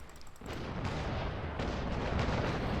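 Ship cannons in the age-of-sail naval combat game Naval Action fire against the Santisima. The booming discharges come in a rolling series, loud at close range, with no voices over them.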